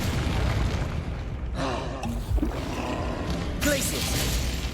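Confringo fire spells blasting in Hogwarts Legacy combat: several booming bursts over a loud, continuous rumble of battle noise, with sharp crackling impacts recurring every second or so and a voice faintly audible underneath.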